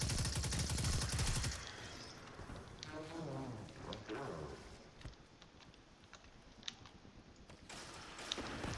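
Rapid gunfire from the video game Destiny 2, a dense loud burst up front that drops to scattered shots and softer game effects under talk.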